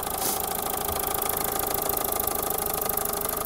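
A small steam engine drives a small electrical generator that lights a bulb, making a steady, even mechanical hum and chug that holds constant and fairly loud throughout, with no talking.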